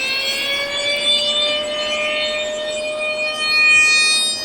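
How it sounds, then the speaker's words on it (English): A quarry alarm siren blares in one steady, loud, continuous wail whose pitch climbs slowly, sounding alone with no voices. "The siren blared all around the quarry."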